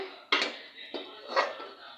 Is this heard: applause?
no